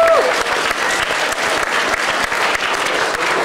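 Crowd clapping, loud and steady, a continuous sustained round of many hands close up with a faint voice at the very start.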